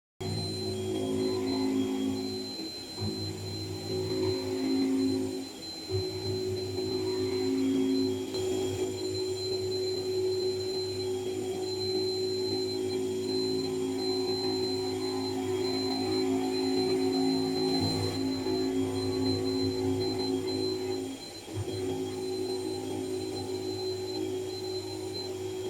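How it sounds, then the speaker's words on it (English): AMOR CNC gasket cutting machine running: a steady mechanical hum with sustained tonal whine, continuous and fairly close, with small dips and shifts as it works. "witness the machine's smooth operation"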